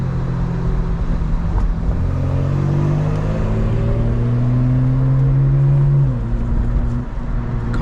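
A 2025 BMW M4 Competition engine drones loudly and steadily from inside the cabin while driving, its pitch climbing and then dropping at a gear shift, with no talking.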